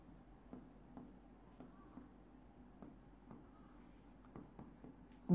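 A pen writes on paper during an accounting lesson, producing faint, close scratching strokes with light periodic taps, quiet and steady, with no clear speech.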